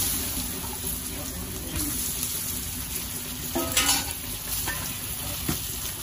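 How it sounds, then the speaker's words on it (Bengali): Soaked lentil dumplings (bori) frying in hot oil in a Bengali village kitchen, giving a steady, close sizzle throughout with occasional louder crackles and stirring scrapes. "আমি এবার বড়ি ভেজে নেবো।"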